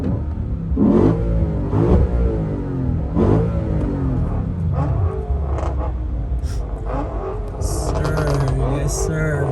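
Car engines at the SEMA Ignited parade rumble and rev in a dense, continuous roar with repeated surges, loud and close amid crowd noise and some talking.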